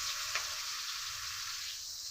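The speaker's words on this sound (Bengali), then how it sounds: "এখন আমি এঁচড়গুলো 2 বার করে ভেজে নিব।" Young jackfruit pieces fry in hot oil with a steady, close sizzle that holds evenly throughout the short stretch, with no voices.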